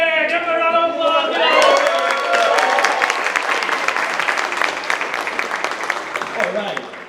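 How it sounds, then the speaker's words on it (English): Audience applause for two volunteers at a 24-hour play festival, clapping and some cheering that swells near the start then continues densely and tapers toward the end, with voices calling out over it. "give it a round of applause"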